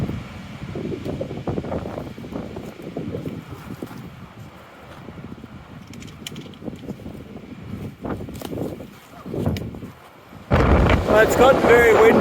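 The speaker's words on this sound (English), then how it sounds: "it's gotten very windy" Gusts of strong mountain wind buffet the microphone above a lake high in the Sierra, rising and falling in rough surges that end in a loud roaring blast, with someone talking through the earlier part.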